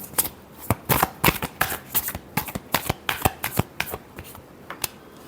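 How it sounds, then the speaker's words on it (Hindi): Tarot cards being shuffled by hand in a love reading, a quick series of crisp riffling bursts in an uneven rhythm, close and clear, with no voice over them. "Last shuffle."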